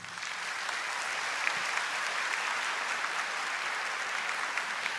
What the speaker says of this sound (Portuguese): Aplaude essa palavra.